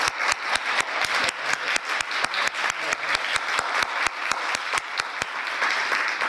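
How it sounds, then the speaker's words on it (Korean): A church congregation claps to welcome a pastor to the pulpit, a sustained round of loud, fairly even applause with crisp individual claps standing out throughout. "이 시간 박수로."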